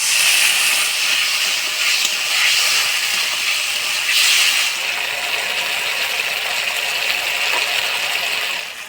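Spice paste of turmeric, salt and other masala sizzling steadily in a pan as it is fried down with a splash of water for a Bengali eggplant curry, a loud continuous hiss with no one talking.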